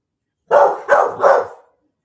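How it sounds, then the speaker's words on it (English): A dog barks three times in quick succession in an indoor hallway, loud and close, each bark full and slightly drawn out, with no talk over it. "Oh, the other dog just got home. He's in the hallway."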